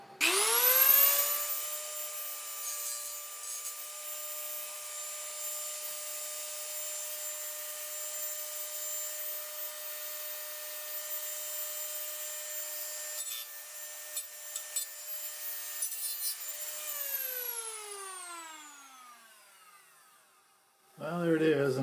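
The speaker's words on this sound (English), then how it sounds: "another bad chassis job as far as cutting out that rectangular hole, but at least we got it cut out" A power tool cuts a rectangular hole in a metal chassis for a homebrew Arduino DDS VFO, giving a steady high-pitched whine that runs for about seventeen seconds before winding down.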